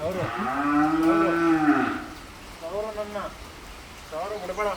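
A cow at a cow shelter moos loudly and close by, a long drawn-out low call, followed by a few shorter, quieter moos.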